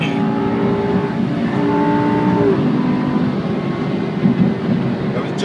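A Lamborghini Superleggera engine accelerates, its rising tonal drone building inside the cabin and then settling at a steady pitch, with rumbling road noise underneath.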